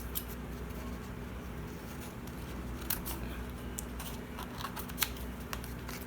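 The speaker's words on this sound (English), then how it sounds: "my paper is hanging off the edge a little bit. I'll trim that off." Scissors trimming the overhanging edge of paper on a card while making scrap-strip tags, a few soft snips and clicks close by over a steady low hum, with no talk.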